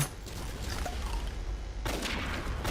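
Gunfire in the online game Avatar Star, a dense continuous rattle of shots and mechanical effects filling the clip, growing brighter and louder toward the end with no clear speech.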